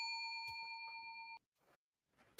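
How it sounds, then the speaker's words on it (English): A bell rings with a steady, clear tone that holds for about a second and a half and then cuts off abruptly, followed by faint rustling and a soft knock. "A bell rang."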